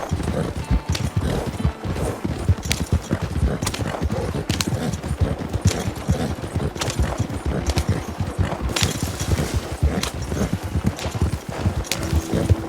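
A horse gallops hard during a winter endurance race in Red Dead Redemption 2, with loud, continuous, rapid hoofbeats that keep a driving rhythm throughout and occasional snorts and clatter mixed in.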